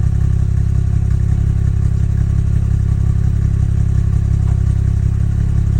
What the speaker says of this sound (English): You can just hear the exhaust.